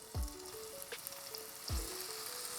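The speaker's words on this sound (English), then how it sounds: "Now I'm going to add the onion." Chopped onion dropped into hot melted ghee in a pan for a chicken korma, a loud hiss and crackle on contact, repeated twice, then steady sizzling frying with a faint utensil clink.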